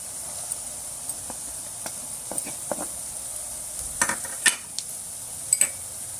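Onion and mixed vegetables fry in a pan for an oats upma, a soft steady sizzle broken by scattered scraping and clinking stirs, with a few louder knocks near the end.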